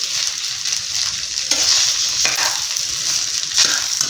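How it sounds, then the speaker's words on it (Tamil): Egg rice is stirred in a hot pan, with scraping, tossing strokes over a constant bright sizzle. A few louder stirs stand out in an uneven rhythm, close up and with no talking. "நான் 1 நிமிஷம் கலந்து விடும்போது சரியாக வரும்"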